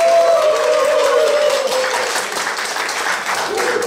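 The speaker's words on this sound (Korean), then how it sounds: "네, 다시 한번 박수 부탁드리겠습니다." An audience at a 40th-anniversary reunion event for high school graduates claps in loud, dense, continuous applause that fades slightly, with a voice briefly audible over the start.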